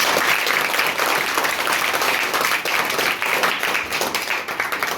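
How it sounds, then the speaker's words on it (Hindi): Students in a tenth-grade crash-course class clapping loudly together, a steady, dense roll of applause close up that continues at full strength for several seconds. "जोरदार ताली बजाओ आप।"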